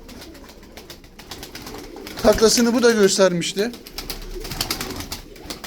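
Tumbler pigeons, a smoky-black hen among them, give a run of coos under someone speaking Turkish nearby, with the cooing rising over the middle of the stretch.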